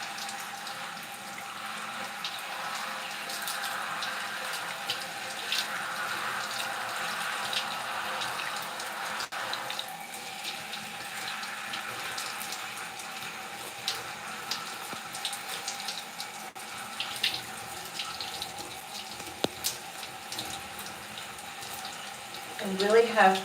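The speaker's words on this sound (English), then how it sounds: "I really have to work the water into my hair" Running tap water splashing steadily as hair is soaked during a curly hair wash, a soft continuous rush at low level lasting throughout with faint shifts in flow, a voice speaking over it.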